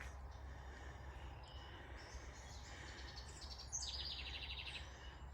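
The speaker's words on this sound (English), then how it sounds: "Do you hear the birds?" Faint bird chirps and calls over low background hum in summer woods on a farm, with a brief brighter burst of song near the end.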